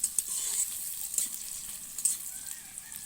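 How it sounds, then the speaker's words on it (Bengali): Onions fry in a pan until reddish, a soft, steady sizzle with a few small pops, quiet and continuous throughout. "পেঁয়াজগুলো একটু লাল লাল করে ভেজে নেব।"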